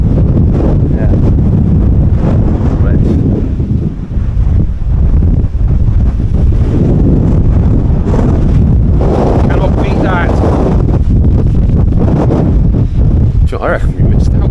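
Strong wind blasts across open moorland on Dartmoor during a camping trip, a constant loud roar buffeting the microphone, with people talking faintly underneath.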